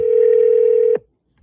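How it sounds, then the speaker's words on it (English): A telephone call being dialed while waiting for someone to pick up: one steady, clear ringback tone lasts about a second, then cuts off abruptly into silence. "Somebody pick up the phone"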